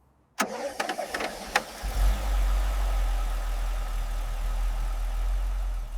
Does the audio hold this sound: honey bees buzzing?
no